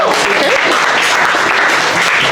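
Sustained, close applause from a lecture audience before an astronomy presentation on Betelgeuse, dense and even clapping throughout with no pause.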